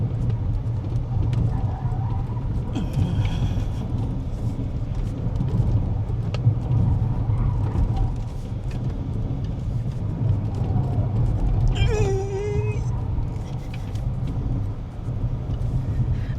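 Lotus Eletre R electric SUV driving hard through a series of curves, a steady loud rolling roar of tyres and wind with brief higher whines and squeals rising over the continuous road noise.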